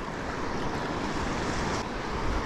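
Wind gusts steadily by the sea on a beach in Palawan during the amihan monsoon, a close, rushing broadband roar with faint surf mixed underneath and no talking.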